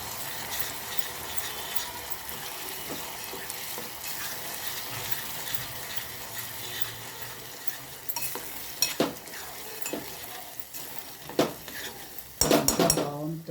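Red chili chutney being stirred with oil in a pan, a steady scraping, sizzling texture throughout with sharper clinks and knocks of the spoon against the pan near the end.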